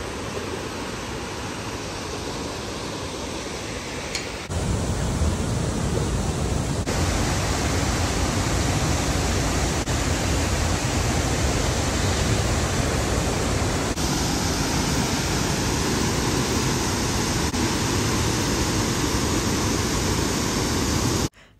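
Kanthanpara Falls in Wayanad roars as a steady broadband rush of falling water, loud and continuous throughout with no voices, growing slightly fuller after the first few seconds.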